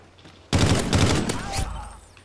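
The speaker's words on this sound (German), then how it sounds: "Können wir aus der Hüfte ein bisschen schneller schießen" Rapid gunfire in the video game Call of Duty: Ghosts: one loud, close burst of fast shots that starts abruptly, lasts about a second and a half and then trails off.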